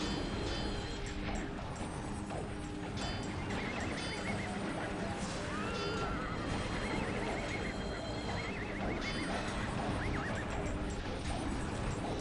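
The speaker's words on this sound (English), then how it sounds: "Oh, I heard somebody's horsey." A horse neighs and whinnies in the fantasy game Ultima Online, with clip-clop hoofbeats over a dense, steady wash of game ambience and music.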